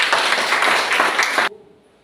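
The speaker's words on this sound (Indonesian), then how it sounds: "Berikan tepuk tangan." A short burst of dense clapping from a group, steady and fairly loud, cuts off abruptly after about a second and a half and leaves near silence.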